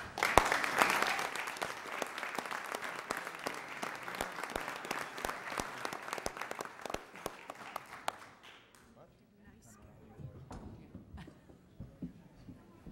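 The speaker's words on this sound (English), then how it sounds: "Another round of applause." An audience at a city council meeting claps for several seconds, distinct sharp hand claps that thin out and fade. Afterward the room goes quieter, with scattered sounds and people talking.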